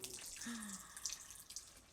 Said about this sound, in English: So let's put that water in.